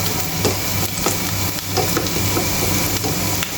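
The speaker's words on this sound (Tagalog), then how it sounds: "Aantayin lang natin mga kaibigan na mag golden brown yung ating bawang at sibuyas" Garlic and onion fry in a pan, giving a steady dense sizzle and crackle with occasional stirring scrapes, close and continuous throughout.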